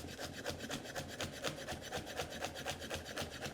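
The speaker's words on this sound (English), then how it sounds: "Whether it's for the marinade or the dipping sauce, everything's got to be finely chopped." A knife finely chops garlic on a board for a Vietnamese marinade or dipping sauce: a fast, steady run of close, crisp cutting strokes that continues evenly throughout with no voices.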